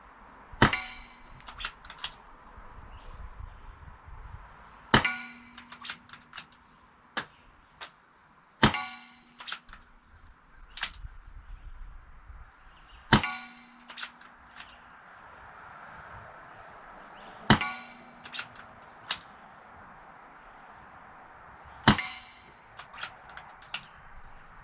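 H&N Hornet pellets fired from an air pistol strike a metal target, six sharp loud clangs spaced a few seconds apart, each followed by a short ringing tone and faint rattles, with no talking.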